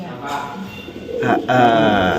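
A dove from Sabang gives repeated coos close by, its calls rising in loudness toward the end while people talk over it.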